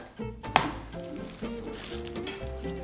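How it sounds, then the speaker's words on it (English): Knife mincing garlic on a board in a home kitchen while preparing a burger sauce, a few quick chopping taps over a background of steady sizzling and a faint tonal hum, with no talk. "So take garlic. Keep mincing this."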